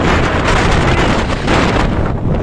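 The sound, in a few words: strong shore wind blowing at sea during fishing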